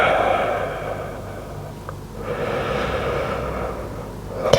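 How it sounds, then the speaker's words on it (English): A person in a yoga pose breathes slowly and deeply, each long exhale a soft, airy rush close to the microphone against a low background hum. "Can you slow down that breath?"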